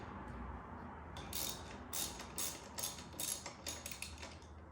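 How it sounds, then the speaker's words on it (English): A ratchet fitted with a 13mm socket backs out the brake caliper bolts on a BMW S1000RR motorcycle, sending quick bursts of close, sharp pawl clicking in several short strokes. "you're gonna have a ratchet. You're gonna have a 13mm socket. First thing, you're gonna take the caliper bolts off."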